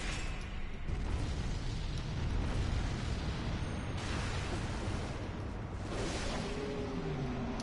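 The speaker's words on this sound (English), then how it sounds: "I know you guys saw that. That was a cannon." Cannon firing in the Bloodborne video game: dense, booming blasts and rumbling bursts filling the clip at steady loudness, with a few sharper surges.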